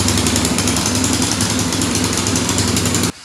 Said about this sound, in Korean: 시동을 걸어보도록 하겠습니다.